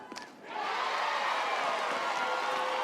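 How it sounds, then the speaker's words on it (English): A crowd cheers at an NCAA softball game between Alabama and Middle Tennessee. A brief murmur swells after half a second into steady, loud cheering and shouting that holds to the end. "And hear the crowd cheering."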